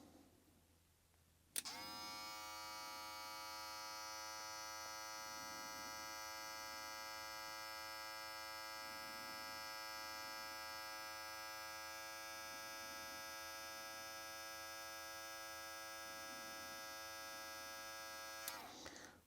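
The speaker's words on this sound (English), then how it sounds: "Now let's check the JRL Ghost on the high speed." JRL Ghost hair clippers switch on and run at high speed with unoiled blades, a steady buzzing electric whine held evenly for about seventeen seconds before cutting off, loud and close, with no talking.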